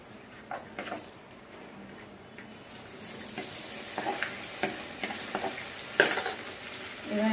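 Dhokar dalna being stirred in a pan with a little water over lowered gas, utensil scrapes and clinks against the pan amid a soft sizzle that grows busier partway through, close and moderately quiet.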